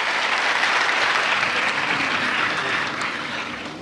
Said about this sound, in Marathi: सगळ्यांनी जिल्हाधिकारी महोदयांचं आपण टाळ्या वाजवून स्वागत करूया